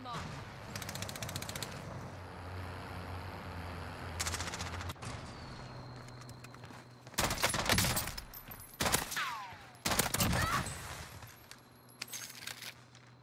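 Several sharp, loud bursts of Tec-9 SMG fire in Warzone, spaced out after a quieter, lower stretch of distant shots, with a voice talking now and then.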